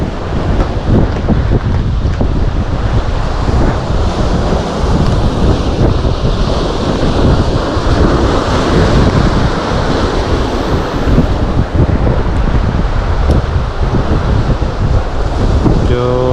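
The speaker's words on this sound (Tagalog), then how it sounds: "Mahangin." Strong, steady wind roars and buffets the microphone at the shore during shore fishing, with surf rumbling underneath throughout and no pauses.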